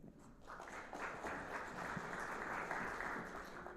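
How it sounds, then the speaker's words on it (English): Audience at an AI and marketing summit applauding a speaker, a soft, dense, steady patter of clapping across the whole stretch with no voices over it. "please give him a round of applause"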